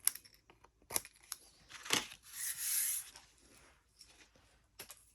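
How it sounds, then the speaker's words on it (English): Scissors trimming cardstock to the edge while making a greeting card, heard as a few short, quiet snips and paper rustles with a longer crisp cut near the middle, no talking. "Flip that over, just trim to the edge."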